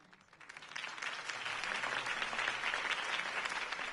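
A crowd in a video game bursts into applause, the clapping swelling from a few hands into a steady, dense roar that carries on to the end.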